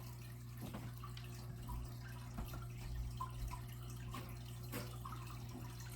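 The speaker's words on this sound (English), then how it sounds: "Let me grab myself some water real quick." Water runs from a tap as a steady, soft splashing flow with a few faint clinks, heard alone over a low background hum.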